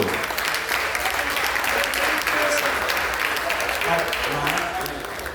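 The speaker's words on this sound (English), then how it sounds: "we're just gonna give a quick round of applause for the Fox Rothschild Law Firm, my man Matt Katay" Sustained applause from an event crowd, steady dense clapping throughout at moderate loudness, tapering slightly near the end.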